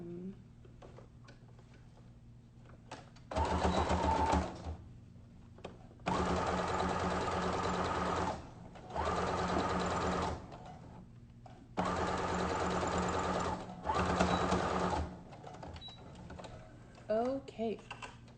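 A sewing machine stitches the final hem on a fabric face mask, running in three sustained bursts of steady whirring with brief pauses between them, close and fairly loud.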